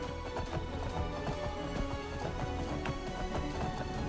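Horse hooves gallop in a steady, rapid clip-clop rhythm in the video game Skyrim, with a moderately loud, continuous run under game ambience.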